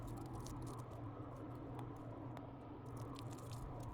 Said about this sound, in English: I'm going to go ahead and peel the garlic before I chop it up